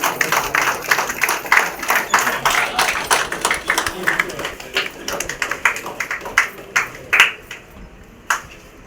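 Audience applause at a Tamil film hero and heroine introduction event, a dense burst of many hands clapping that gradually thins into scattered claps toward the end.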